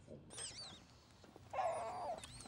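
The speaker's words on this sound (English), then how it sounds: "the dog name is Squeaky" A dog in the film Snatch lets out a short yelp, then a longer high whining squeak, heard close and fairly loud over faint background film sound.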